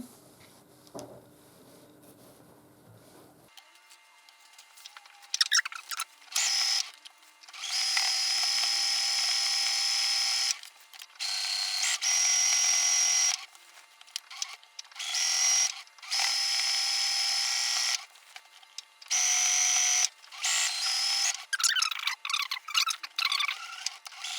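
A sewing machine stitches a drawstring scrub bag in repeated whirring bursts of several seconds each, separated by brief stops and quiet handling noises, close and steady.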